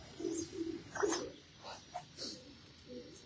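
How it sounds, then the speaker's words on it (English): A pigeon bred in a stock loft coos softly in a few low, short bursts, faint and close, with light background rustling and a possible brief voice. "this is a pigeon that was bred in our stock loft"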